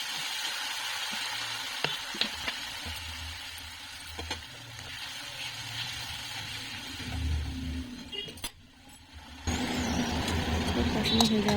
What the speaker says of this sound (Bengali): এরপর একটু জল দিয়ে মশলাটাকে কষিয়ে নেব।